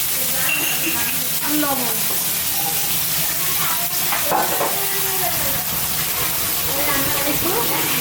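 Prawns fry in hot spiced oil, a loud, continuous sizzle and hiss running the whole time with occasional stirring, while someone talks over the cooking.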